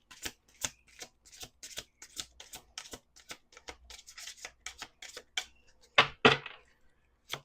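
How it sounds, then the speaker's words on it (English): Rapid riffling bursts of playing cards being shuffled, repeated many times in quick succession, then a louder, longer riffle near the end; no talking. "Let's do two more shuffles."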